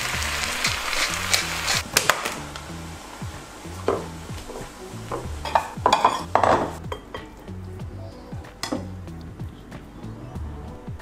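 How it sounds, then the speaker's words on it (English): Veggies and ground turkey cook in a pan with a low sizzle, while a utensil stirs and scrapes and knocks against the pan in irregular, close clatters. "So today I'm just cooking some veggies and ground turkey."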